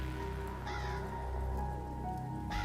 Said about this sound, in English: one of my favorite parts of the intro was the rain